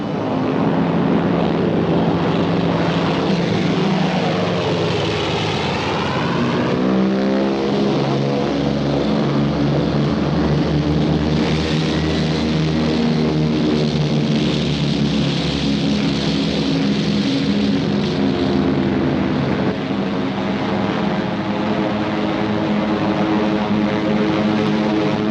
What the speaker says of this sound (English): they would send their bombers to blast it from the face of the earth